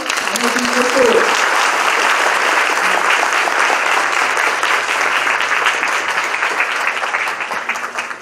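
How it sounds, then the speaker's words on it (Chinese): Dense, steady applause from a lecture-hall audience at a university talk welcomes the speaker, loud and continuous throughout with a brief voice at the start before the clapping fades slightly at the end. "那我们现在是不是以推烈的掌声来欢迎黑友龙先生来到今天会议"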